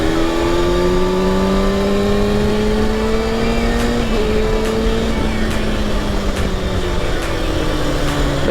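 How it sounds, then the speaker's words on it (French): A 2015 Kawasaki ZX-6R Ninja 636 sport motorcycle engine pulls up through the revs, with a steady rising harmonic drone, a brief gear-change dip, then more climbing; loud and close, continuous with wind noise and no talking. "ce moteur là, malgré qu'il développe seulement 35 kW, il a quand même un certain couple à bas régime"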